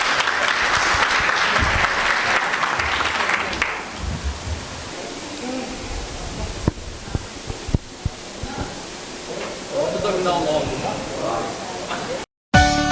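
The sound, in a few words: applause for the panel speakers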